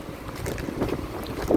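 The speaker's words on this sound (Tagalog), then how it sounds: "Yan, lakas ng hangin guys." Strong wind buffets the microphone in gusty, rushing waves, loud and close, with no one speaking.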